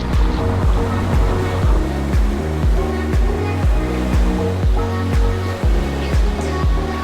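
Ocean waves break repeatedly at a surf spot in Lombok, a steady loud wash of surf with rhythmic crashes roughly every second, close by and with no voices.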